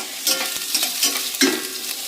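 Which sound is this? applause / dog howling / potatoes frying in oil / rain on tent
potatoes frying in oil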